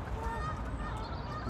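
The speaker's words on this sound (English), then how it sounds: "so many geese on the water, they all flew in this morning" Geese on a lake, many gathered on the water, give faint, distant honks beneath a low, steady outdoor rumble of wind.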